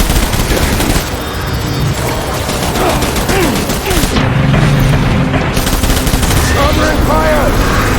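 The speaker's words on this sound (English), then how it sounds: "Covering fire! Retreat!" Covering gunfire in the video game Death Stranding: a dense, sustained barrage of rapid shots and booms running throughout, loud and continuous, with a voice briefly heard over the battle noise.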